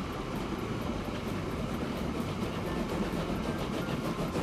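A steam train running in the video game Train Fever, heard as a steady rolling rumble with faint rhythmic clickety-clack of wheels on track, continuous and moderately loud with no talking.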